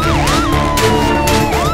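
A loud cartoon animal ambulance siren wails in rising and falling sweeps, close and continuous, over a bright musical background.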